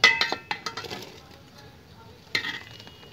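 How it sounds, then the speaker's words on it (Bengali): Vegetables tipped into a pot of simmering masala khichuri made with gobindo bhog rice and dal, giving a quick run of clinks and clattering knocks against the metal, then a quieter stretch and one more clattering burst near the end. "তো এই সময় আমি এবার সবজিগুলো দিয়ে দেব এর সাথে।"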